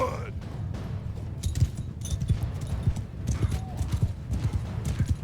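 Horses' hooves clip-clop in a steady, dense patter across a Mount & Blade II Bannerlord battlefield, with occasional whinnies and a continuous crowd-like rumble of marching troops.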